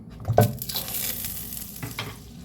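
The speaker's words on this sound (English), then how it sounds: "Now, I'm going to put in our whole stick of butter." A whole stick of butter melting in a hot pan, a soft steady sizzle with a brief stirring scrape near the start, close and alone.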